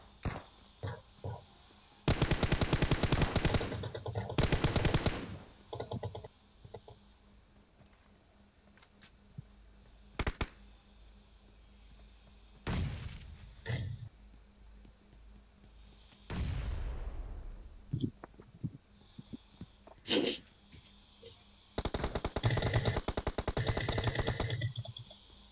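Automatic gunfire crackles through a PUBG Mobile match in several loud, rapid bursts that are separated by quieter gaps with scattered single shots.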